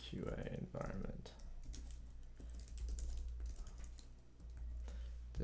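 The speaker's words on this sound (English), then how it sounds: "I know I'm a slow typer" Slow typing on a computer keyboard, uneven clusters of close key clicks with pauses between them over a low steady hum.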